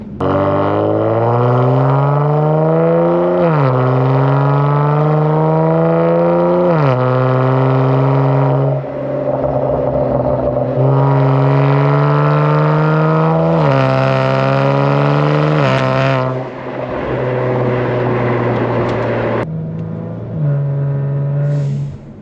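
A loud Kia Stinger exhaust with catless downpipes roars and revs repeatedly, pitch climbing and dropping in long pulls, harsh and raspy, close by with no talking.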